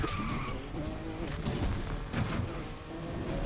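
Tires of a Ferrari 488 Pista skid and scrub in the racing game Need for Speed Unbound, with a rough, continuous scraping under a humming engine, loud and close.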